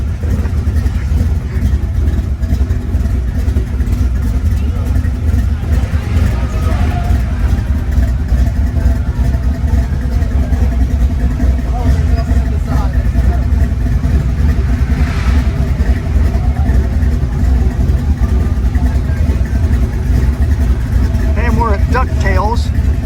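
A Ford Bronco on 37-inch tires with a 427 stroker V8 from Viva Chassis idles at a large car show, a steady deep rumble under prominent talk and crowd chatter throughout.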